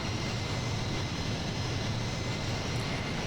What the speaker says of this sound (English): focusing on the number 2 engine of the C-17